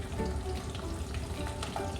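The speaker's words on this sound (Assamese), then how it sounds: "এই আলুখিনি হৈ গৈছে ভাজা" Potatoes fry in hot oil in a pan while biryani is being prepared, giving a continuous close sizzle with light stirring scrapes and no voices.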